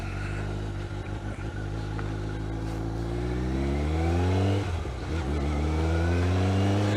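A motorbike engine drones steadily while riding, with gear-change dips and rising revs as it pulls away again, loud and close throughout.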